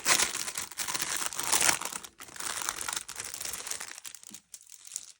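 Plastic packaging crinkles and crumples steadily as a new cash envelope binder is unwrapped, close and loud in bursts for about four seconds before fading to sparse rustles.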